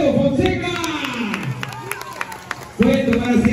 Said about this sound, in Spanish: el aplauso para Pedro Fonseca